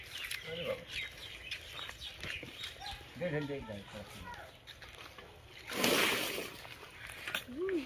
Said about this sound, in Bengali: ওর গায়ে এখন পানি ঢেলে দেবো